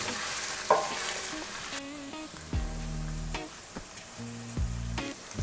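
Tomato paste and chipotle peppers sizzling in a hot pan while a utensil stirs and scrapes through them, with several distinct clanks against the pan over a steady frying hiss, close and fairly quiet.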